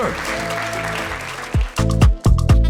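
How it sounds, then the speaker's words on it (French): A comedy show audience applauds a performer: a steady wash of clapping under a speaking voice, then louder, choppy bursts of crowd noise near the end. "On peut applaudir Wilmar, mesdames et messieurs."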